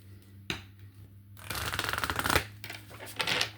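A deck of cards is shuffled close by: a single sharp snap, then a long riffling burst, and a shorter riffle near the end, with no one talking.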